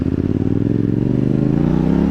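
A Yamaha MT motorcycle engine revving hard while stationary, a loud, close, sustained throaty roar with rising pitch, heard alone.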